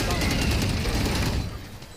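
Gunfire in the video game Valorant comes as a dense, loud burst of rapid shots that tails off toward the end. Players chatter over the shooting.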